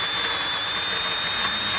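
A power tool buffs a corroded exhaust nut on a Porsche 993, giving a continuous close, even high-pitched whir that holds steady throughout.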